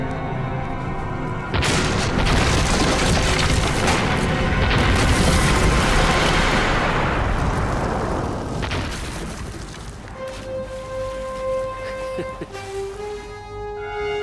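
A loud, sustained explosion boom in a Chinese period TV drama, erupting after a short lead-in and rolling on for several seconds before fading into a quieter tail with lingering debris and tones.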